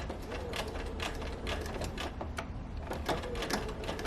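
Sewing machine stitching the corner of a sofa slipcover, a fast steady mechanical rattle of the needle with small clicks and a brief pause, close and without speech.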